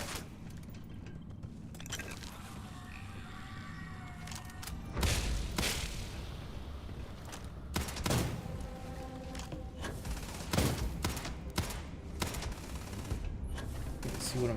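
Gunfire in the space game Starfield comes in repeated loud bursts and single booms scattered through the stretch, with quieter game ambience in between.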